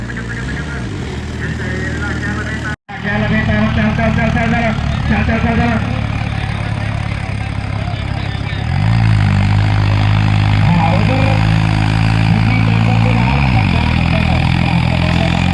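A New Holland tractor engine drones loudly as it hauls a loaded trolley, steady and close, and the pitch rises and strains partway through. Someone talks over the engine throughout.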